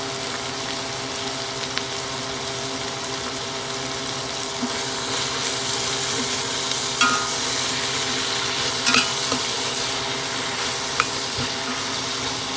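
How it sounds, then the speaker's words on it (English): Cabbage sautéing in a pan while being stirred with a small teaspoon, a steady close sizzle and hiss throughout, brightening midway, with a few faint scrapes and clicks of the spoon. "A lot of times I forget about cabbage. And we'll just mix this up and saute it."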